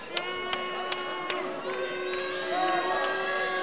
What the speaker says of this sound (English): Crowd not happy with how quickly that went on